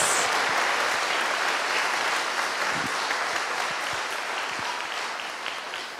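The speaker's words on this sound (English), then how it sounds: "Give them one more round of applause." Sustained applause from an audience at a sixth grade graduation ceremony, dense steady clapping that fills the room and slowly tapers toward the end.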